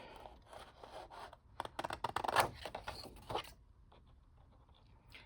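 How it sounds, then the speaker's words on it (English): Scissors cutting out a paper printable for a junk journal file folder, a run of close, soft snipping and scraping strokes that cluster in the middle, then fade to quiet handling. "But we will just cut this out."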